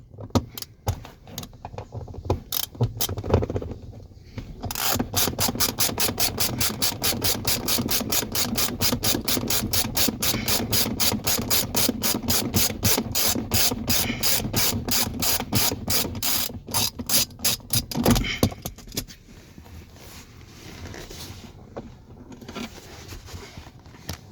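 A hand ratchet clicks rapidly and continuously while undoing the front seat bolts of an Alfa Romeo GTV Spider, close and loud, with short slower bursts at the start and a quieter rustle of handling once the ratcheting stops.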